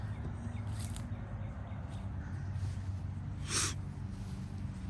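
A couple of short, breathy sniffles, one faint early and a sharper one later, over steady low outdoor background noise.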